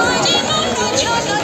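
A dense crowd of devotees at Samaleswari temple in Sambalpur, a steady close babble of many voices with someone talking over it.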